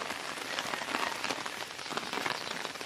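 Heavy storm rain pours down in a dense, steady hiss of drops beating on surfaces, fairly close and unbroken throughout, with no voices over it.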